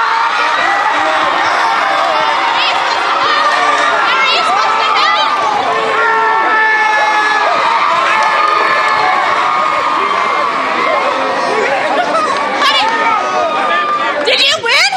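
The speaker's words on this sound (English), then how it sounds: "I'm going to need a little help from the crowd here. Cheer us on." A crowd cheers loudly and continuously at a high school football game, with whoops, shouts and children's voices overlapping in a dense, close wall of noise that holds steady to the end.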